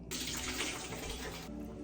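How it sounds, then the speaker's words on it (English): Water poured out of an infused-water container holding limes, fresh frankincense and a rose quartz crystal: a close, steady rushing pour lasting over a second, then stopping abruptly. "We're gonna go ahead and pour this water out."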